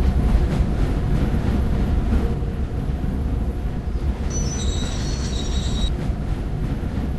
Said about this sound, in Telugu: బ్రేక్స్ కూడా పడుతున్నాయి బ్రో